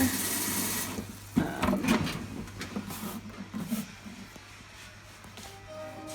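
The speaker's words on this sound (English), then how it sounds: "we're gonna fill up the water" Water runs from a tap in a small home studio space to fill a container, starting with a rushing splash, then continuing in uneven gushes and trickles with clinks and handling sounds.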